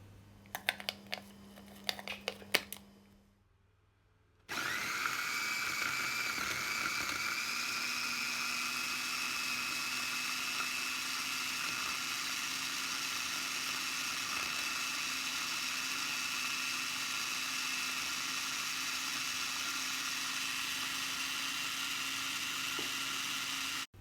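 After a few light clicks and a brief hush, a blender grinding palm sugar with a little water starts up and runs as a steady, high, whining hum for about twenty seconds.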